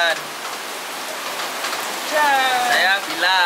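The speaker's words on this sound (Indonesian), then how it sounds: "Buktinya sekarang hujan." Rain falling steadily on a surface during a behind-the-scenes photoshoot, a constant hiss of drops with people talking over it in the later part.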